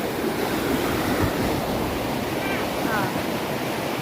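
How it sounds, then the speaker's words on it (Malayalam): A strongly flowing river gives off a loud, steady rushing wash of water, constant throughout with wind-like noise and no clear voices. "ഇത്രയും വലിയ ശക്തമായിട്ട് ആറ് ഒഴുകിക്കൊണ്ടിരിക്കുന്നത് കണ്ടില്ലേ"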